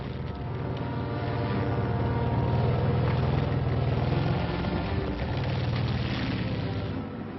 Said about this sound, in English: These are the sights and sounds of a full division on the move.